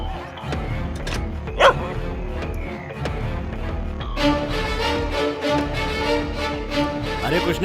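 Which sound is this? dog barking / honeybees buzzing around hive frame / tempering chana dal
dog barking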